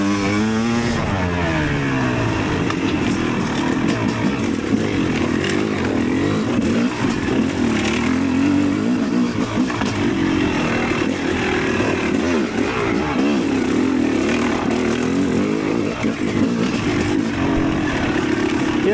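Yamaha YZ300 electric-start dirt bike engine running steadily while being ridden, a continuous loud two-stroke drone with slight pitch swells and no pauses, alone without voices.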